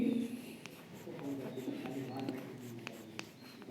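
Chalk or marker strokes tap and scratch on a board during a Hindi grammar lesson, coming as short, scattered marks under a soft, low voice in a quiet classroom.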